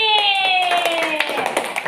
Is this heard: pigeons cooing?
no